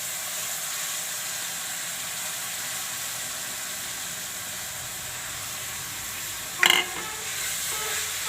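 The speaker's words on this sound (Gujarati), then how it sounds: "હવે આપણે મેથી નાખી દઈશું." Fenugreek leaves cooking into a masala in a pan, a soft steady sizzle and hiss throughout with one brief sharp clatter of stirring near the end.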